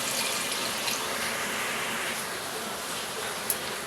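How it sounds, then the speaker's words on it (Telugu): Two glasses of water pour into a pot of country chicken curry, a soft steady rushing splash that runs continuously and fairly quietly. "2 గ్లాసులు వాటర్ పోస్తున్నాను."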